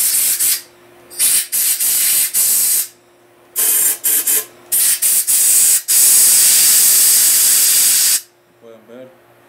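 Compressed air blasting out the head bolt holes of a Mitsubishi 4G63 engine block, loud close hissing bursts of varying length, ending in one long continuous blast, followed by someone speaking.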